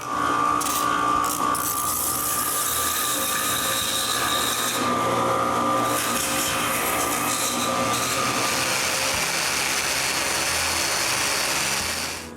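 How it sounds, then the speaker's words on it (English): A power sander works over X-carved wooden candy bowls, giving a loud, continuous whirring drone with shifting pitch as the tool is pressed and moved across the wood, with no talking. "I also need to give a final sanding to all the X-carved bowls."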